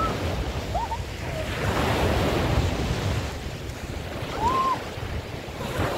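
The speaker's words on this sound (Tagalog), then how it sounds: "High tide na kasi. Kaya medyo maalon-alon na." Sea waves at high tide wash in and out steadily under gusty wind, with a couple of faint squeaky chirps in the distance.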